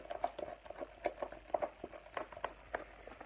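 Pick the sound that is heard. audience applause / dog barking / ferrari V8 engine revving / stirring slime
stirring slime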